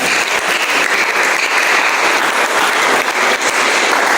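A church congregation claps loudly and steadily in a dense, sustained burst of applause, close and filling the room without pause.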